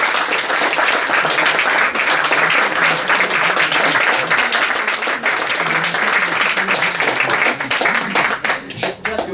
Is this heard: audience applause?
yes